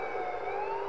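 A police car siren wails in the Grand Theft Auto video game, a steady rising tone heard briefly and moderately loud with no talk over it.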